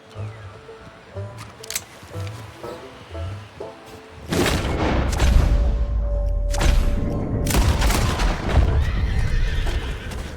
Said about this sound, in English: This kind man lent Arthur his horse so he could get back to Valentine